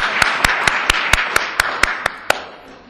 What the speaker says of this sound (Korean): 우리 박수로 한번 환영해 주십시다